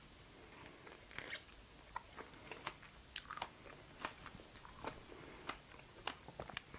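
A fresh strawberry is bitten and chewed close up in a quiet indoor setting, giving a string of small wet crunches and squelchy chews at an irregular rhythm, faint but distinct, with no talking.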